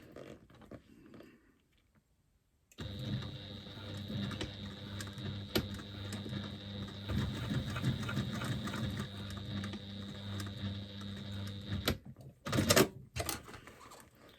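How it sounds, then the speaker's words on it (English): A sewing machine stitches the side seam of a woven bag, a steady close whirring hum of rapid needle strokes that runs for about nine seconds, then stops with a few clicks. "Make sure I'm not stitching over the other side."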